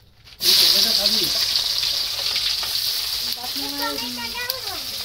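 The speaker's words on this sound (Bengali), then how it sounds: "পেঁয়াজ দিয়ে দিলাম" Onions dropped into hot oil burst into a loud, steady sizzle that continues for several seconds, with someone talking over the frying.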